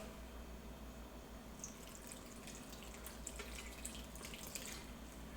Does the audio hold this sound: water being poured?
yes